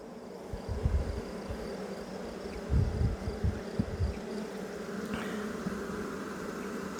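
Honey bees in an open hive under inspection give a steady, close insect drone that swells and thickens in short bursts, with no talking.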